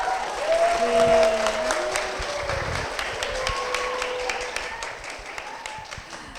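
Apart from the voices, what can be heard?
audience applause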